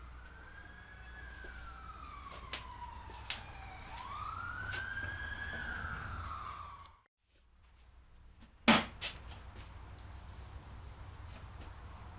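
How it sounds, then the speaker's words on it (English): A police siren wails and sweeps in pitch as it passes at a distance, fading out, followed by a sharp nearby knock in a workshop. "Did you hear those sirens?"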